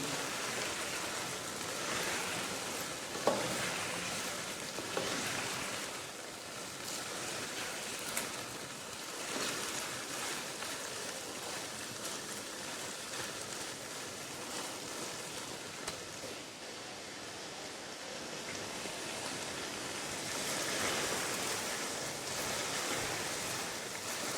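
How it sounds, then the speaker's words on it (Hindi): Green chilies, ginger and garlic frying in oil in a pan for chicken karahi, a continuous hissing sizzle like steady rain, moderately loud with occasional faint knocks. "अदरक लहसुन और सब्ज़ मिर्च के साथ इसको 2 मिनट अच्छे तरीके से पकाएंगे"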